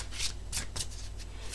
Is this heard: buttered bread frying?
no